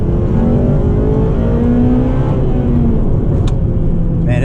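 A 2009 Honda Civic Type R FN2 with VTEC pulls hard under acceleration, a loud, sustained engine note heard from inside the car that rises in pitch, with no talk over it.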